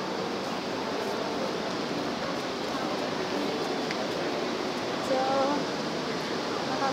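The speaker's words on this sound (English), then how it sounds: "And this is one fountain." An indoor fountain in a shopping mall splashes steadily as a continuous, even wash of falling water, with a faint bit of background activity near the end.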